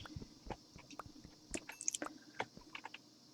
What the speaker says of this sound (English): Still eating.